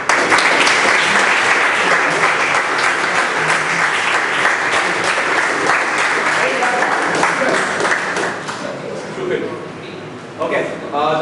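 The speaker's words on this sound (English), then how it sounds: "I want to please give a round of applause for Sneha." A club farewell gathering gives Sneha a loud, sustained round of applause from many hands that holds steady for several seconds, then thins and tapers at the end with a few voices.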